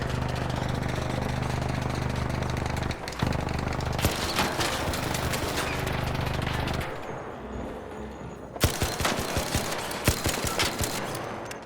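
Bettina weapon in the ARC Raiders video game firing loud, sustained automatic bursts up close, breaking off, resuming, then trailing into scattered sharp shots as the ammo runs out, with a low engine-like rumble underneath.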